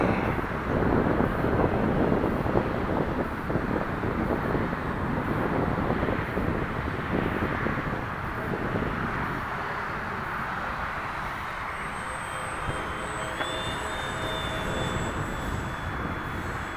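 An FMS SuperEZ RC model airplane with flaperons flies over a parking lot, its small electric motor giving a steady whine under heavy wind buffeting that eases partway through, with no talking.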